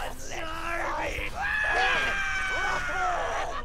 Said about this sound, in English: I couldn't quite hear it over the screaming of the people I was killing